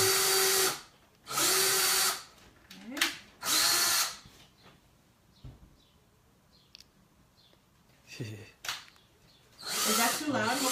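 A power drill bores into a wooden tray in loud bursts, several whirring runs with pauses between them, while quieter clicks and handling noises fill the gaps.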